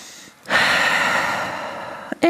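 A deep breath during a yoga downward dog pose: a long, airy breathy rush that swells and slowly fades, with a brief quieter breath at the start and a sharp catch near the end.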